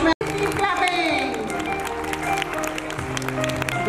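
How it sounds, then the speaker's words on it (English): An audience claps at a school event honoring young students, the applause sitting under loud music and a speaking voice, with a short abrupt dropout near the start. "Keep clapping."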